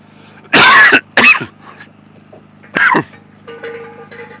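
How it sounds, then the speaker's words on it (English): Several harsh, close coughs come in bursts, two quick ones then a third after a pause, over a low engine-like hum. "I'm coughing my guts up here."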